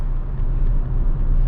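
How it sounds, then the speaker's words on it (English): Cabin of a 2023 Honda WR-V on a rough road surface, with a steady, loud low rumble of tire and road noise droning continuously and alone, without pauses or talk. "So on these rougher sections of the road, yeah, it is quite apparent, the tire noise"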